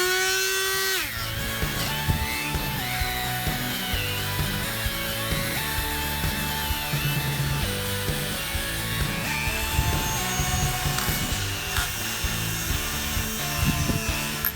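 A power tool spins a brass wire wheel against a Subaru engine, giving a loud, continuous motor whine with shifting pitch and a rough brushing rasp throughout.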